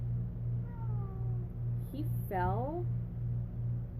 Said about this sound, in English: that was my cat. My cat is losing her mind.